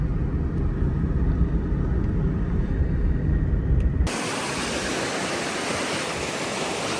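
A waterfall in Abshyr village, Nookat, roars as a dense, steady wash of rushing water, loud and close throughout, its tone shifting abruptly brighter and hissier partway through with no voices.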